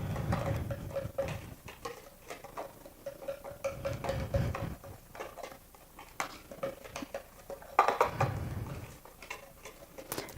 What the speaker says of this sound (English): all we're gonna do is we're gonna mix it up with a whisk, just so all the dry ingredients are mixed up properly.